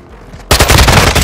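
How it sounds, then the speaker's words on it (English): Loud rapid automatic gunfire in the video game Call of Duty Modern Warfare 2, breaking in abruptly after a quieter moment and continuing as a dense rattling burst. "Taking enemy fire!"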